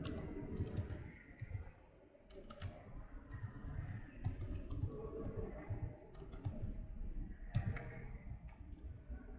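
Quiet desk sounds of a computer mouse and keyboard at work, light scattered clicks and taps close by over a low room hum, with no talking.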